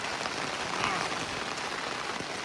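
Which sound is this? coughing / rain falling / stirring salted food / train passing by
rain falling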